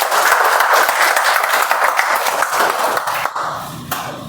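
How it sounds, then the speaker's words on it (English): Meeting audience applauds, dense steady clapping from many hands filling the room at close range, thinning out toward the end after about three seconds. "I think you should give him a round of applause for that."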